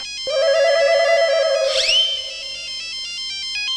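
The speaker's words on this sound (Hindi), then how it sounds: "माँ आपका फोन बज रहा है।" A loud electronic phone ringtone plays a sustained melodic tone with a rising sweep in the middle, continuing steadily to the end.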